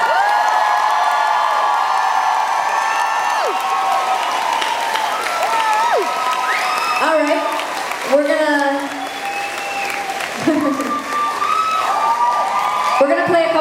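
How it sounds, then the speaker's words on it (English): A concert crowd at a show breaks into loud, sustained applause with cheers and high whoops, the clapping steady throughout as individual shouts rise over it. "So please, a huge round of applause for one of my favorite new bands"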